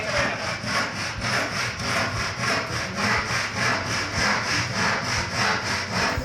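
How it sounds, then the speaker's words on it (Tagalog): A hand saw cuts through a wooden board for a shelf bracket. Close, loud back-and-forth strokes rasp in an even, steady rhythm throughout, with no speech. "Sinimulan ko na nga yung paglalagari at mas pinili ko pa rin gamitin to kaysa gumamit ng jigsaw."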